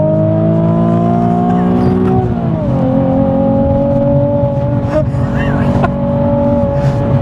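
A Nissan 370Z NISMO on a race track, its engine revving hard with a loud, sustained note that dips briefly and then climbs and holds high, heard close from inside the car.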